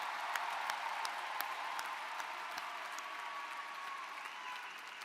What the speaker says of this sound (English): let's give your family and friends a big round of applause